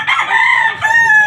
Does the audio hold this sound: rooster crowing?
yes